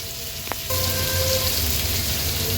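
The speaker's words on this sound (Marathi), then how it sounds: "आता आपण पुन्हा ही चारी बाजूनी तुकडी फ्राय करून घेणार आहोत" Hilsa fish pieces frying in a pan over low to medium flame, a dense close hiss and sizzle that swells loudly after a brief quieter start.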